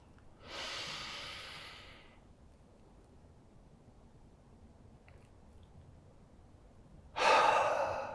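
Two slow, breathy exhalations during a meditation, each a soft airy rush lasting a second or two, the second louder and closer, separated by several seconds of quiet room tone.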